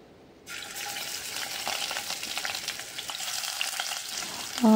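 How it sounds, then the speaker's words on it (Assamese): Kawoi fish (climbing perch) sizzles loudly in hot oil, a bright crackling hiss that starts abruptly and continues steadily up close, with a short clink at the end. "এতিয়া মাছকেইটা ভাজি ল'ম।"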